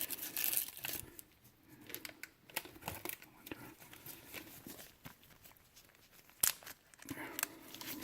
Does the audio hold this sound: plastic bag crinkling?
yes